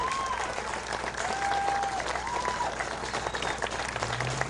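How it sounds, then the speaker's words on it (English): An audience applauds honorees at an awards ceremony, a dense, sustained round of clapping filling the room evenly from start to finish, with faint voices and a brief tone mixed in. "I think we should just clap before I continue"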